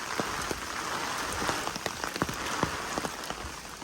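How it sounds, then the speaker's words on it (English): Heavy rain pours steadily onto wet ground and foliage on a hilly mountain trail, a dense continuous hiss broken by close, sharp drops spattering at irregular moments, with no voices. "And it is pouring rain today."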